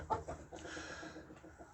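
Chickens cluck softly in a coop nest box, a few short close calls near the start and then a low, steady murmur of hens.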